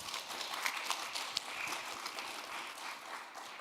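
Audience applause at a talk on AI data training and quantum computing, greeting a researcher from the Institute of Mathematics and Computer Science; steady, fairly faint broadband clapping from a small crowd, continuing evenly throughout with no talk.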